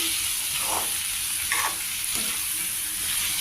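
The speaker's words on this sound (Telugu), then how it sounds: "మధ్య మధ్యలో మనం కలుపుకుంటూ ఉండాలి కూర మారకుండా కొద్దిగా మగ్గేందుకు" Cabbage fry sizzling steadily in a pan, with a few scraping stirs of a spoon breaking through the constant frying hiss; no one speaks.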